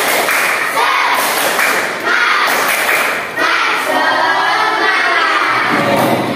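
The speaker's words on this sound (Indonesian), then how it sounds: "Tepuk semangat." Classroom children perform a rhythmic spirit clap together, loud and close, with repeated bursts of clapping and shouted chanting across the room.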